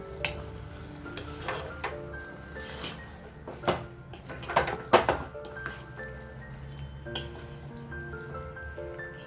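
Prawn curry with drumstick being stirred in native coconut oil in a pan, a soft steady sizzle with scattered clinks and scrapes of the spoon, close and fairly quiet, no talking.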